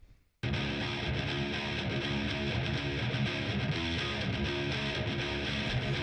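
Distorted metal guitars with their EQ removed kick in after a brief quiet moment, a loud, continuous, thick wall of fast chugging riffs with no talking.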